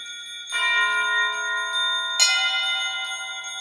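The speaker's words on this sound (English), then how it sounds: "Ding dong the castle bell" A resonant bell struck twice, once at the start and again about halfway, each strike ringing out with a long, bright, sustained hum of overtones and no voices.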